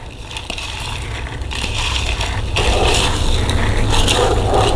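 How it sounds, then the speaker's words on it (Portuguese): Dry corn flour flakes are crushed by hand in a kitchen while preparing a fish broth, a close, crackly crunching and scraping that grows louder and coarser partway through, with no talk. "Ó, quebrou a farinha."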